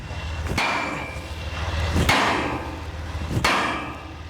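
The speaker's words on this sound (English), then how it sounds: "Some hopeful hits with a 10-pound hammer aren't going to make much impact on the 12-ton steeple overhead" A 10-pound hammer strikes a steel rig beneath a 12-ton church steeple during a building move, three sharp metallic blows spaced about 1.5 seconds apart over a steady background rumble, no talking.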